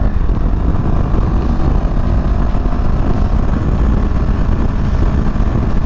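A CFMOTO CL-X 700 Sport motorcycle leaning through a turn, its engine a loud, steady low drone mixed with rushing wind that holds constant from start to finish.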